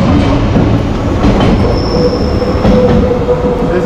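A train passes close by on a ride between Lipno reservoir and Aschach on the Danube, with a steady loud roar of wagons rolling over rails, wheel squeal and a faint clickety-clack throughout.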